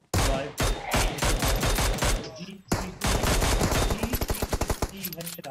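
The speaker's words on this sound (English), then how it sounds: "G360 headshot. One of the best sounds in the game." Rapid bursts of G360 gunfire from PUBG Mobile, loud and close, two volleys of quick repeated shots separated by a short pause, with faint talk in the background.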